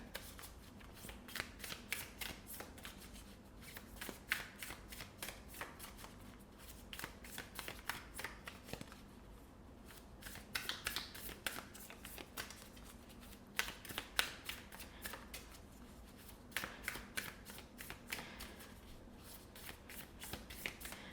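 Tarot cards being shuffled over and over in quick, soft riffles, close and fairly quiet, with brief pauses between rounds and no talking.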